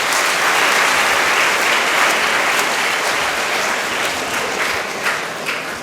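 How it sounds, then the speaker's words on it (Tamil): Sustained applause from an audience at a college event, steady dense clapping filling the whole stretch and easing slightly toward the end. "அவங்க முதல்ல இப்படி தைரியமாக சொன்னதுக்காக அவங்களுக்கு கைத்தட்டுங்க."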